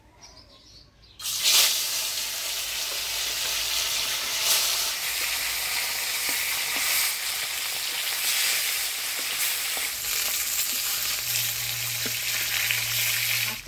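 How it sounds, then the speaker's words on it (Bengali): Katla fish pieces sizzling in hot oil in a wok, a loud steady crackling fry that starts abruptly after a quiet moment and continues with no talk. "এবার মাছটা আমি এপিট উপিট করে হালকা ভাজিয়ে নিব।"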